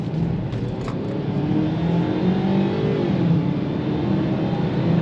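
A Ford Maverick FX4 AWD pickup truck engine roars steadily as it accelerates hard, a loud continuous drone with rising pitch and no talking.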